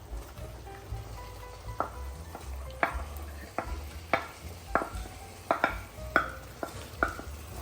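Chicken pieces frying in ketchup sauce in a pan, a soft steady sizzle under a run of sharp scraping stirs that come roughly once a second, close and fairly quiet.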